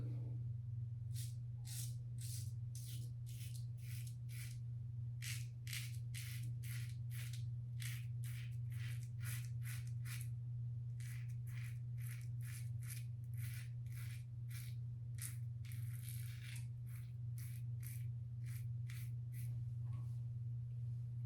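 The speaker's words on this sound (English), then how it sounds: "Yes, it's quite a loud razor" Fast, rhythmic scraping strokes of a loud Maxwell June twin-blade razor across facial skin, shaving with the grain, continuing steadily and close-up over a constant low hum, with no talking.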